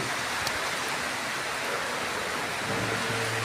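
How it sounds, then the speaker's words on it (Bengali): Heavy rain pours onto trees tossing in the wind, a dense, steady hiss of drops that runs the whole time with no break and no voices. "বৃষ্টি শটশট করে পড়তেছে গাছপালার সামনে দিয়ে"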